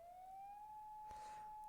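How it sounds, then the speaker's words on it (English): An ambulance siren holds a steady, slowly rising wail at very low volume, with a brief burst of broadband noise partway through. "The sound of the siren is much louder now."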